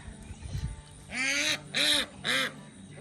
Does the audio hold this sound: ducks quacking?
yes